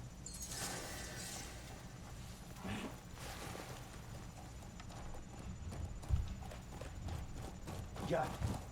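Hooves clop at a walking pace under faint background sounds, with a short whinny and scattered thuds from a horse in the video game Crimson Desert; a voice speaks briefly.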